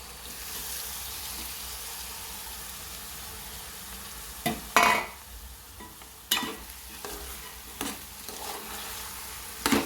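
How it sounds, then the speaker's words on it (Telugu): Boiled goat intestines fry with ginger garlic paste in a pan. A steady, soft sizzle runs throughout, broken by several louder bursts of stirring and scraping. "అల్లం వెల్లుల్లి పేస్ట్ బాగా వేగిందండి ఇప్పుడు ఉడికించిన కళ్ళబోటి వేసుకోవాలి"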